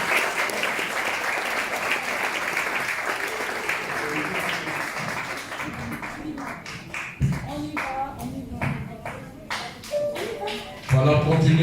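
Dense audience applause at a launch event encouraging the children, loud and sustained at first, then thinning into scattered individual claps and shuffling as people speak over it.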